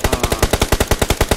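Rapid automatic gunfire in PUBG Mobile, a loud, steady burst of about fifteen evenly spaced shots with no pauses.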